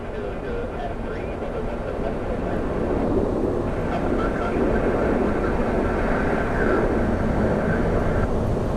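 A distant Frontier jet airliner roars past at Orlando International Airport, a broad rumbling wash that swells gradually and stays steady, with no talking.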